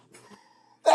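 A single sneeze: a faint breathy intake followed by a sudden sharp burst at the very end, close and loud, with no talking.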